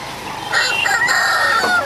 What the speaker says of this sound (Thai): พามาเยี่ยมดูน้องไก่ที่กำลังจะโดนเชือด